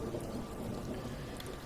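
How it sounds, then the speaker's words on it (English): Heavy pouring rain in a nighttime San Francisco setting gives a continuous dense hiss and patter that stays even and loud for the whole short stretch. "Out into the massively pouring rain."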